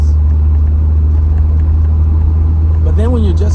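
Mazda RX-7 FC rotary engine with a deep, almost baritone exhaust note, a steady loud low drone close by while cruising, with someone talking over the end.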